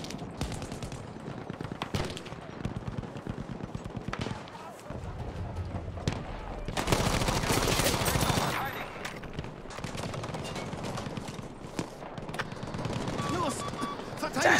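Rapid bursts of enemy gunfire and machine-gun fire in a Battlefield 5 match on the Narvik map, dense rattling volleys repeating throughout with a loud sustained stretch in the middle, while someone talks over the shooting.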